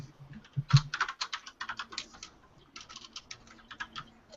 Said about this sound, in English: I love how it's dead quiet and all Iry's just typing away.